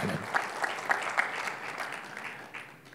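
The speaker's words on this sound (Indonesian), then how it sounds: "Kasih tepuk tangan bagi Tuhan Yesus." A church congregation applauding during a sermon, a steady wash of many hands clapping together that fades slightly toward the end, with faint voices mixed in.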